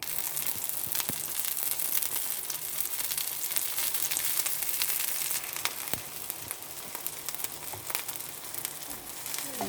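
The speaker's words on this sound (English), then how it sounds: "So you can see the cottage cheese pancakes are bubbling away." Cottage cheese pancakes frying in a pan give off a steady, soft sizzle with occasional small crackles. It continues evenly throughout with no talking.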